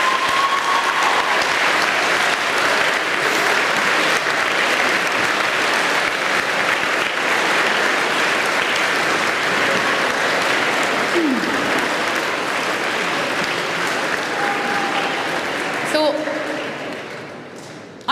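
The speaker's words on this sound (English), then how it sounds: "I think we deserve a round of applause there" A school audience at Hazelwood College in Dromcollogher gives a long, dense round of applause at a CPR event, holding steady for many seconds before tapering off at the close.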